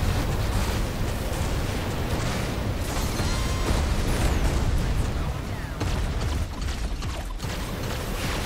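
Flat cannon shots and explosions in a space combat video game, a dense loud barrage of booms, mechanical clatter and bursts running continuously with little pause.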